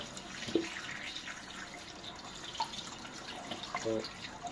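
Plaice being rinsed under running tap water, a low splashing trickle with a few drips and small knocks, quiet and close, with no talking.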